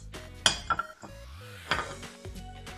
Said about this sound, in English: Let's mix all the ingredients.